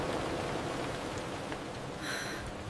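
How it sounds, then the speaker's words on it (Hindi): Steady rain falls in a continuous, even hiss that stays moderately loud throughout, with no voices. "आज फिर बारिश हो रही है।"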